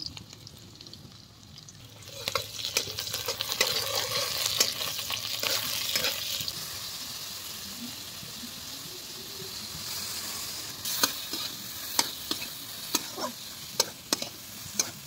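Chowmein stir-frying in a pan at a New Year's Eve picnic, a steady hiss and sizzle with scraping stirs, ending in a run of sharp spatula clacks against the pan; no talking.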